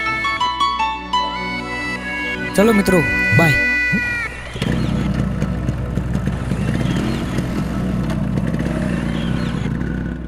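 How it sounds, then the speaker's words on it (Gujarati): A motorcycle is self-started and ridden off; after a stretch of talking, its engine catches and runs steadily and fairly loud, a continuous rumble to the end. "અરે હાલ જ આ બાઇકની સેલ મારું અને આ નીકળ્યો."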